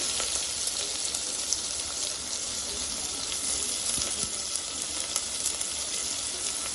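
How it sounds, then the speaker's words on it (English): Onion sizzling in hot oil with a pinch of asafoetida for chana dal, a dense, steady hiss that runs unbroken and fairly loud throughout. "I'm going to add about a pinch of asafoetida. Once that is fluttering, I'll add the onion."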